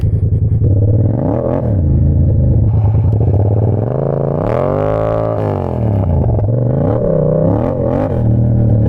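A 2021 Yamaha MT-07 motorcycle rides along with a loud, steady engine drone that rises and falls as the throttle changes, revving up and easing off under constant wind rush.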